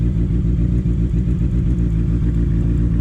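A 2018–2019 Honda CB650F fitted with a Gescap 421 sport exhaust and GP3R tip idles close by, its steady, deep, throbbing burble continuing evenly throughout.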